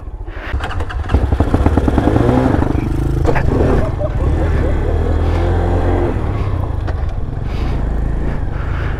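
X-pro Vader Honda clone motorcycle ridden on a test ride, its small engine revving hard then droning steadily with rattles, close and loud, a voice briefly audible underneath.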